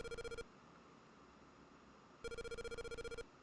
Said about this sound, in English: Did you hear the phone ring?